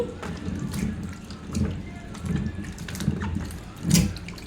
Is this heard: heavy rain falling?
no